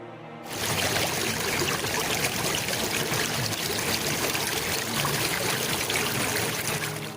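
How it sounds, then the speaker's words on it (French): After a brief silence, water from jugs pours in a loud, continuous stream onto a sacrifice and a pile of wood. The steady splashing lasts to the end without a break. "Remplissez 4 cruches d'eau et versez-les sur le sacrifice et sur le bois."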